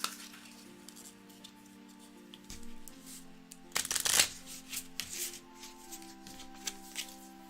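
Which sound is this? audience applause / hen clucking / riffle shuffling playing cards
riffle shuffling playing cards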